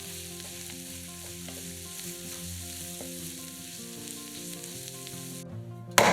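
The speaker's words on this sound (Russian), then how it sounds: "Все перемешиваем." Mushroom filling, seasoned with salt and ground black pepper, fries in a pan while being stirred, a close steady sizzle under faint scraping, ending in a short sharp clatter.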